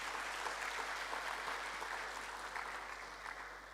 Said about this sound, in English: I think we can give Sahudanis a big round of applause